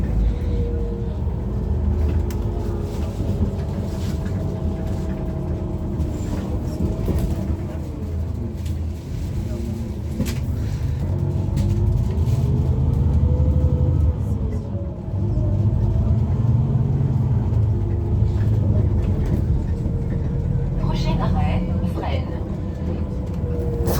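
A Toulouse city bus, line 50, arriving at a stop, heard as a low engine rumble and drone that rises and falls over about twenty-four seconds, with people talking over it.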